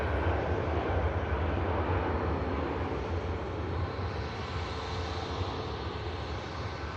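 A Cathay Pacific airliner at Manchester Airport heading for runway 23 left gives a steady, loud jet engine roar that holds constant for the whole stretch, with no voices over it.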